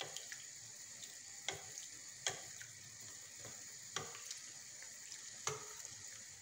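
Flower-shaped beignets fry in oil with a soft, steady sizzle, broken by a few sharp pops and crackles every second or so, quiet and close, with no voices.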